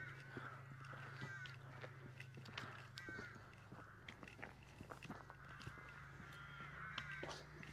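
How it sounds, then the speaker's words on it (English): Crows caw intermittently while roosting around a farm and small woodland on the Welsh coastal countryside, several distant calls over a low steady hum with occasional footsteps and rustling. "Sound of the British countryside, isn't it? It is. Crows roosting."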